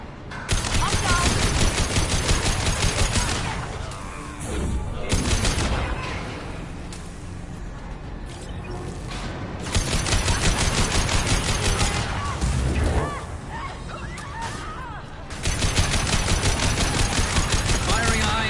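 Heavy, continuous automatic gunfire from a Mass Effect firefight rattles loud and close in long sustained bursts, with brief lulls where voices speak underneath.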